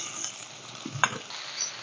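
Ridge gourd, eggplant, potato and pumpkin tumbling into a pan over lightly fried onions, a continuous bright sizzle with a short clatter and stir in the middle.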